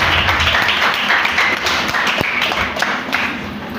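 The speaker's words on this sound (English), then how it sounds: "Can you give her a round of applause?" Primary school pupils clap during a drug abuse awareness session by a Nigerian drug enforcement agency, a loud, slightly uneven burst of many hands with a few sharp thuds mixed in.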